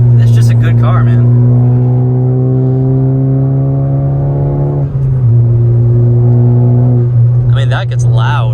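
Tuned Honda Civic Type R engine revving loud and close, a sustained high-revving drone that drops in pitch briefly midway then holds again, with blips of a voice at the start and end.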